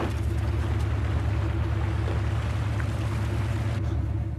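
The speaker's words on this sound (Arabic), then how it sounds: "دورة التصريف تعمل." A washing machine draining water during a wash using car-wash soap, heard as a steady, loud mechanical hum with a low pump drone and rushing water, continuous throughout with no talking.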